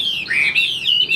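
A caged Chinese hwamei songbird, about three years in the cage, sings a continuous run of bright, warbling chirps close by, with no talking over it.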